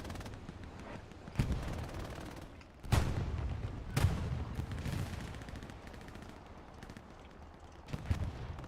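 Heavy booming gunfire from tanks fighting around a 76 tank in Hell Let Loose, with several loud, spaced blasts and rumbling echoes over a dense, noisy battlefield background.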